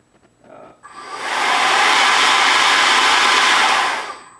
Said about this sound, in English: It reduces the tip whine on the motor.